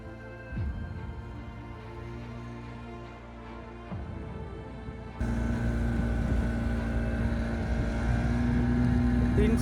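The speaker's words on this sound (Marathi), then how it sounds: "आता आमची बोट स्टार्ट झाली आहे." A motorboat runs on the Honnavar backwater, its engine droning steadily and close, then becoming noticeably louder and fuller partway through; faint voices can be heard under it.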